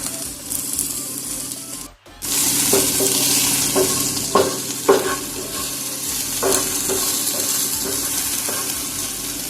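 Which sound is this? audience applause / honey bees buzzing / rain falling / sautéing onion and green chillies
sautéing onion and green chillies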